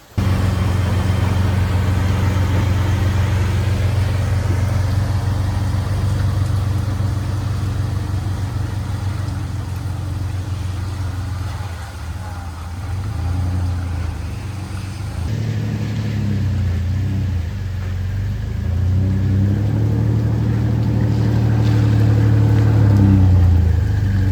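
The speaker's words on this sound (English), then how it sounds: "what I may do is go turn the truck around so that we can just pack straight out of this garage" A pickup truck engine runs steadily as it is turned around, a loud low rumble that dips briefly and then revs again, heard up close with no talk.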